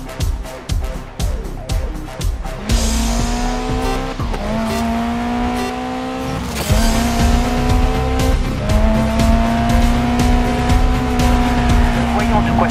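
A race car in Grid Legends accelerates through rapid upshifts, then holds a loud, steady engine drone with a squeal of tires and a couple of gear changes while a voice talks over the noise.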